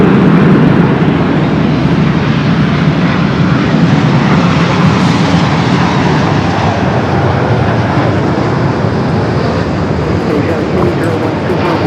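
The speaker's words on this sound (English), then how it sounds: "Next arrival is an American Dreamliner" An American Airlines Dreamliner jet arrives at Los Angeles airport, its engines roaring in a loud, steady broadband wash that holds throughout, with a voice talking over it.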